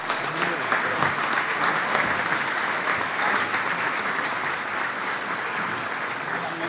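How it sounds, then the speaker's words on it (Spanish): Luncheon audience at a business association event applauds a central bank president, a dense, steady round of clapping from a large room that carries on evenly throughout. "Y un aplauso fuerte"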